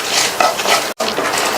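Mustard seeds, coriander seeds and dried chillies dry-roasting in a pan over medium heat, with loud close rustling and scraping stirs, a short clink, and a brief cut to silence near the middle.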